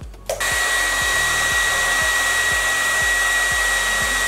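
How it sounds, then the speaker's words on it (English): A hair dryer on its cool setting, drying a synthetic wig, switches on and runs steadily with a constant whirring blow and a high tonal whine, plus a faint regular low ticking underneath. "I'm going to put it on cool"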